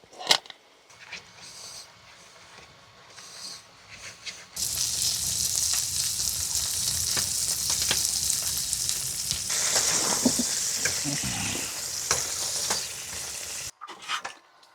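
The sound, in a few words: asparagus frying in butter in a pan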